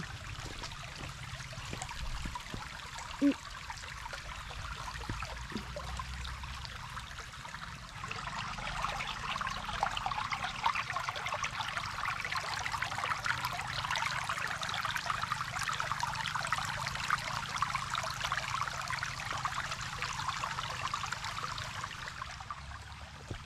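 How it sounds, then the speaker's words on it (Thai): Steady broadband rush of a forest stream flowing near a fish pond, a constant close watery wash that grows slightly fuller partway through, with no voices. "ตรงนี้ก็เป็นลำธารนะคะทุกคน"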